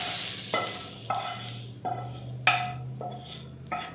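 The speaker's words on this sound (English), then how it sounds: "We want to stir those vegetables and onions and garlic in really well" Vegetables, onions and garlic are stirred into penne pasta and sauce in a hot pot, a spoon scraping in repeated wet, rhythmic strokes about every half second over a faint sizzle, close and alone.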